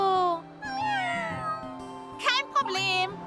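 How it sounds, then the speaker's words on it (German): Cartoon kittens mew in high, wavering cries over a bouncy backing tune, several overlapping meows with a sharper squeal near the end. "Das sind Titis bezaubernde Kätzchen. Sind sie nicht süß?"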